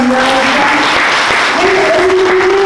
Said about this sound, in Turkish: Güçlü bir alkışı bir daha